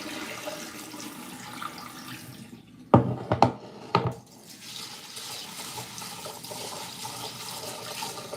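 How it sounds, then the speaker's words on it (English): Rinse water from rice that has been washed about eight times is poured off in a few splashing gushes, set against steady kitchen background noise. "Get this water out. Washed it about 8 times."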